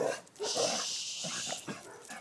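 Dogs bark in a short burst of yaps and woofs close by, with a steady high hiss running underneath.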